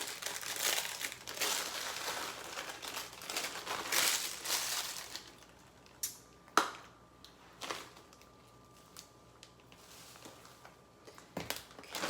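Snack crackers, seasoned with Old Bay, are crushed and crumbled for a baked stuffed haddock filling, making a dense close crinkling crunch for several seconds, then quieter scattered taps and crackles.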